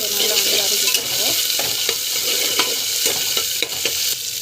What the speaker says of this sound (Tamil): ஸோ இஞ்சி பூண்டு பேஸ்ட்டு ஸோ நல்லா வந்து வதக்கிட்டுருக்கோம்.